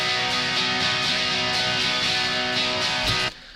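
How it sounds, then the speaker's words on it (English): Rough, garage-style rock electric guitar tracks layered together from a song production, a dense, loud, sustained wall of strummed chords that cuts off abruptly near the end. "Now let's talk about the electric guitar tracks here."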